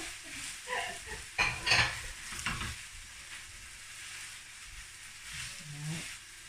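Chicken fried rice being stirred and warmed through in a pan gives a soft, close sizzle with scraping and clinking bursts from the utensil in the first few seconds, then settles into a quieter frying hiss.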